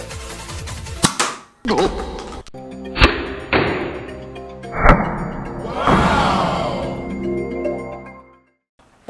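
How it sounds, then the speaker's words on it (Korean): A toy three-way shotgun, rifle and pistol gun fires several sharp, close shots in quick succession, each a loud snap with a brief decaying tail, followed by a longer whooshing burst and a short pause before a final snap. "자 그러면 우선 첫 번째 샷건입니다. 우선 장전!"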